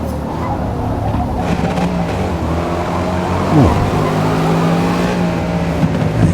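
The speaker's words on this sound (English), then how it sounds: "Exhaust going on that Mustang there as he was changing down." Ford Mustang exhaust crackling on a downshift during a Forza Motorsport race, heard amid continuous engine drone and revving, with a brief swooping pitch drop midway and steady tire and engine noise throughout.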